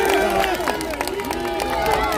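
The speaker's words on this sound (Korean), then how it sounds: "이재명 대표님께 큰 박수 한번 보내주십시오" A crowd at a press conference on the plaza outside Yeongdeungpo Station cheers and applauds for Lee Jae-myung, steady clapping mixed with shouts and babble close around.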